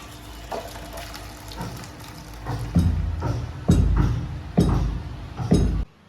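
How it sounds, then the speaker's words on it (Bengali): Cooked vegetable dal is poured from a pan into another pot in a home kitchen, with thick splashing glugs and clinks of metal building in loud bursts before stopping abruptly. "আমি এবার একটা অন্য পাত্রে ঢেলে নিচ্ছি"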